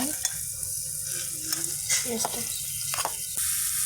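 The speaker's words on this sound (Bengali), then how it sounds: "পাতিল গরম হয়ে গেছে এখন আমি তেল দিয়ে দিচ্ছি এখন পেস্ট দিয়েছি আমি" Spice paste sizzles and spatters in hot oil in a pot, with a steady frying hiss and scattered stirring scrapes. No voices.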